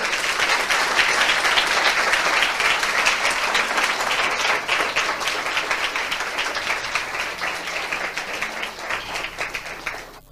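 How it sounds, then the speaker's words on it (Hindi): A congregation at a church service bursts into loud, sustained clapping that gradually tapers off toward the end, a dense wash of many hands with little else heard. "मैं चाहता हूं इस वचन के लिए हम जोरदार ताली बजाएं"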